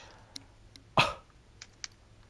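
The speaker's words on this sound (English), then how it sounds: "What do you fucking eat that makes you burp like a fucking heathen?" A single short burp stands out over a quiet room, with a few faint clicks scattered around it.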